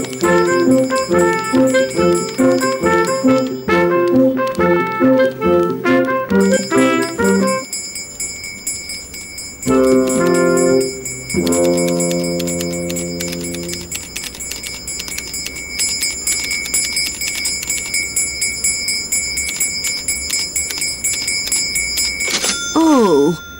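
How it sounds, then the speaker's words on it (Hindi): An ice cream truck's bell rings in a cartoon, sounding as bright repeated chiming tones in rhythmic patterns over music, with pauses and a voice speaking in between. "वो घंटी की आवाज यहाँ से आ रही है।"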